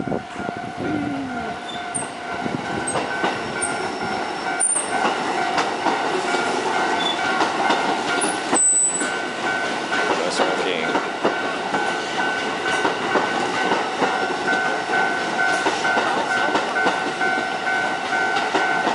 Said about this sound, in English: Sometimes these trains can take a long time to go through.